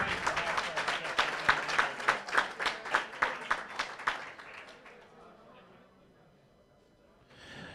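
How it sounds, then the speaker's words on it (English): An audience at a bench press championship applauds a 70-year-old lifter, steady clapping for about four seconds before fading out. A voice is heard faintly at the end. "Give her another round of applause for that."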